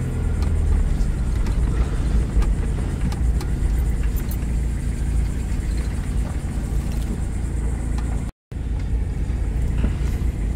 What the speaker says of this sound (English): let's remove the stick and take it for a drive, see if there's any change.